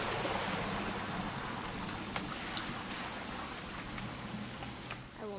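Rain patters in What Remains of Edith Finch, a steady wash of falling water with a low rumble beneath and a few faint drips, fading slightly toward the end.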